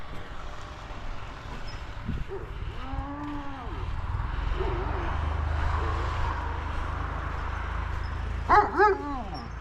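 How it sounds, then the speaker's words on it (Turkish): A dog gives a couple of short barks and yips near the end, barking at bread at a construction site, over steady low rumbling background noise, with a few faint harmonic whines earlier. "Bak şimdi bana mı havlıyor, ekmeğe mi havlıyor?"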